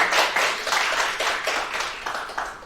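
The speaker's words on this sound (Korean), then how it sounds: "박수로 청하겠습니다" An audience at a press association debate claps to welcome gubernatorial candidate Yang Seung-jo, a brief patter of hand claps with uneven bursts that thins out toward the end.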